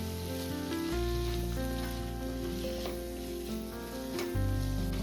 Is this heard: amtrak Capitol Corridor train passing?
no